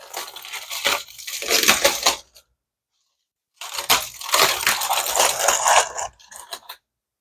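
Smoked pulled pork, just off the pit, is unwrapped indoors: two long bursts of loud crinkling, tearing wrap separated by a short silence, close by and alone.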